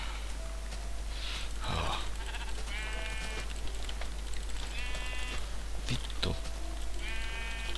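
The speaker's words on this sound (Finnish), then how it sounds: "Ja teurastetaan lampaita." Sheep bleating in the Minecraft video game, several wavering bleats repeating at intervals over a steady low hum, with keyboard clicks and a brief spoken exclamation.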